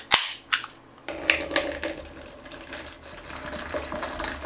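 Sparkling Lipton Ice Tea pours from a can into a measuring glass: a sharp crack at the start, then a splashing, fizzing stream with a few small bursts.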